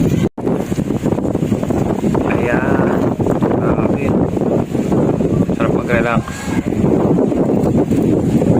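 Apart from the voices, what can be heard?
sea breeze wind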